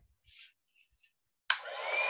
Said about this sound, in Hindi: अब मैं इसको फटाफट से सुखा लेती हूँ।